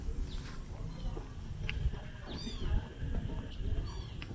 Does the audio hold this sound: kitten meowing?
yes